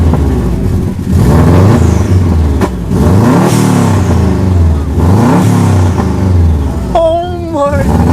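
A Subaru STi engine fitted with a new eBay downpipe revs repeatedly in loud, rising and falling sweeps with deep exhaust tone, close by, and excited voices briefly join near the end.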